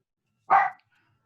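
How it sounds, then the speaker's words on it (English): A single short, sharp bark from a Chihuahua, loud and close, in an otherwise quiet room. "I assume that is a Chihuahua bark."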